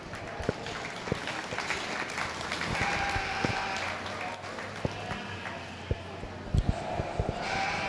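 Audience applause fills an arena at a sheep show, a moderate steady clapping mixed with crowd murmur and scattered sharp knocks and thumps.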